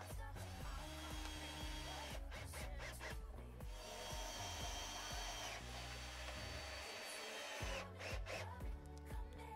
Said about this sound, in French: Puis je visse la lame.